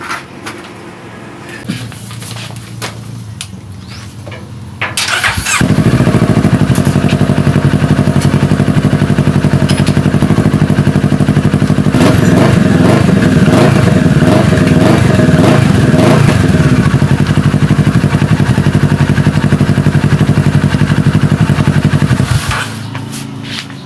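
Kawasaki Z650RS motorcycle with its catalytic converter deleted, starting up after a quiet idle-like stretch and then held at loud, raspy high revs for about seventeen seconds before dropping off, close by with no talk.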